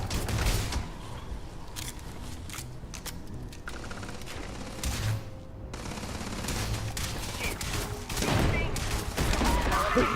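Explosive pistol rounds in Starfield, a steady mix of shots and blasts with loud bursts near the start and end, under continuous game noise.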